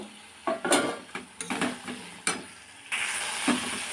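Potatoes fry in a pan of oil with a cooked paste of ginger, cumin, chili, turmeric and salt, with scattered clinks and scrapes of a spatula, then a steady close sizzle that swells near the end.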